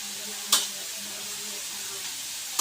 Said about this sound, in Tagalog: ayan ayan ang niluluto niya oh. gulay toge